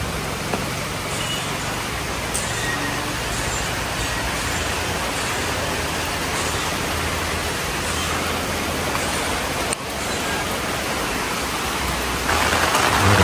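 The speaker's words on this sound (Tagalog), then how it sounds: "Grabe na ulan na talaga dito mga kababayan." Heavy rain falls steadily in Davao, a dense, constant hiss near the microphone that grows slightly louder toward the end, with no voices.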